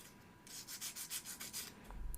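A wooden ROKR 3D pinball puzzle piece is hand-sanded to remove splinters. About eight quick back-and-forth rasping strokes come in an even rhythm, close but faint, with no voices.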